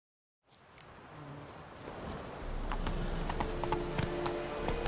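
Hooves of Roach the horse in The Witcher 3, soft clip-clop steps fading in from silence and growing steadier and a bit louder under a low game ambience.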